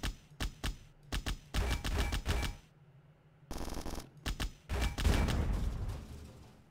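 A double-barrelled gun fires in the video game Bad Bots: repeated sharp, loud shots in quick irregular bursts, with short gaps and one longer pause before another rapid volley.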